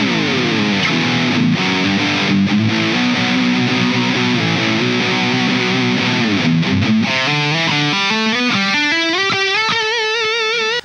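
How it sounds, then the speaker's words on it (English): Heavily compressed distortion from a roughly twenty-year-old guitar effects unit, a loud, sustained overdriven tone with held chords that shift into quicker melodic runs toward the end, played alone without talk. "they do feel compressed, like the distortion stuff is pretty compressed, so they make it so easy to play"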